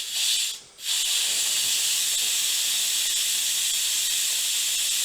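An Instant Pot's steam valve releases pressure in a loud, steady hiss that dips briefly for a moment near the start, then continues unbroken and close.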